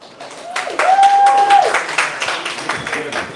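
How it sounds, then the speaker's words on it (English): An audience at a celebrity chef's food demo showcase applauds steadily, with dense clapping from a crowd. Voices and a brief whoop or whistle rise over the clapping partway through. "So everyone, round of applause."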